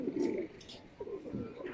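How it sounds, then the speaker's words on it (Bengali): Visiting racing pigeons cooing inside a loft, soft repeated low coos from nearby birds, fairly quiet with some background rustle. "গেস্ট কবুতর আসছে।"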